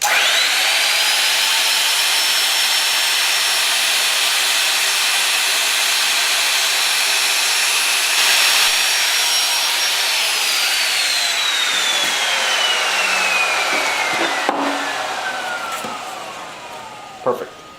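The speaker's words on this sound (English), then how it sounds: "Now this needs to be routed out to the depth of this, maybe just a little bit more than the depth of this to compensate for the fiberglass." A power router cuts out a wooden part to make room for fiberglass on a Honda Sabre café racer project, a loud, steady high-pitched whine that holds constant and then gradually winds down as the motor spins to a stop.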